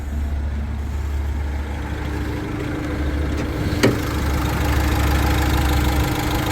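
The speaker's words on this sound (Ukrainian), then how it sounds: "чиста робота двигуна" A van engine idles with a steady low rumble and faint knocking, constant throughout with one brief click partway through.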